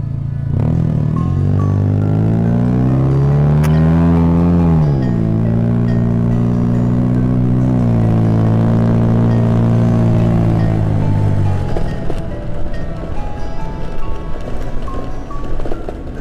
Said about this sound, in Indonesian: Berisik mobil teh.